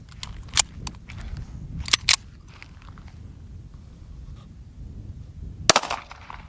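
A .38 Super handgun fires several sharp, sudden cracks at uneven intervals: two close together early, a pair near the two-second mark, and one more near the end, with quiet room tone between.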